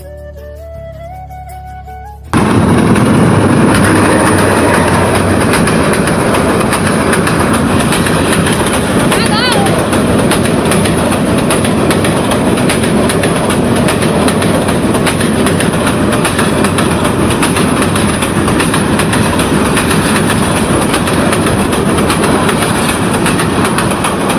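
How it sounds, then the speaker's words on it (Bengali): A train crosses the Jhinai bridge in Jamalpur, its loud, continuous rumble and clickety-clack of wheels suddenly swelling after a quiet moment and filling the rest of the scene up close. "আমাদের এখানে ট্রেন চলে আসছে ব্রিজে"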